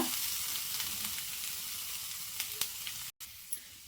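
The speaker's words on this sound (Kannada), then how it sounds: "ಇದನ್ನು ಸ್ವಲ್ಪ ಫ್ರೈ ಮಾಡ್ಕೊಳ್ಳೋಣ." Grated coconut fries in ghee in a pan with a steady, close crackling sizzle, a few small pops rising above it and a brief dropout near the end.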